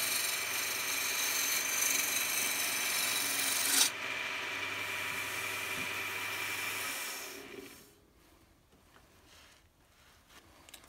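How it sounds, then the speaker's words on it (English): A sharp woodturning gouge cuts a wooden goblet spinning on a lathe, a steady close rasping scrape that holds for about eight seconds before dropping away to quiet. "I'm using the wings of the gouge, very sharp."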